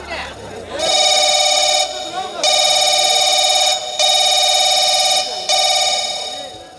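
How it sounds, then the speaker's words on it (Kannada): A telephone rings in four long, loud electronic bursts with short gaps between them, close and steady, with no talking over it. "ಈಗಲೇ ಆ ಇನ್ಸ್ಪೆಕ್ಟರ್ ವಿಜಯ್ಗೆ ಫೋನ್ ಮಾಡಲೇಬೇಕು"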